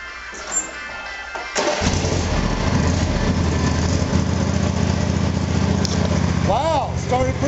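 A small engine with a regapped spark plug cranks and catches, then settles into a steady, loud idle that runs to the end, with a brief rising rev near the finish.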